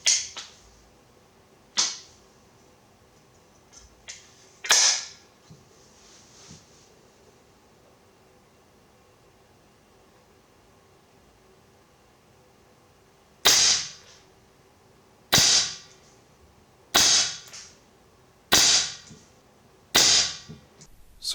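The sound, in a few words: Artemis LP400 airgun firing pellets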